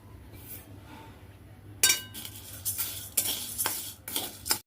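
Urad dal roasting dry in a pan, stirred with a metal spoon: quiet at first, then a series of close scraping and clinking strokes against the pan.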